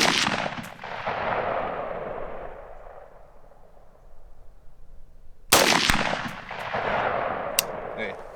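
Rifle shots fired at a target through a Spina Optics 4x20 carry-handle scope, two sharp reports spaced several seconds apart, the first with a long rolling echo that fades out before the second crack.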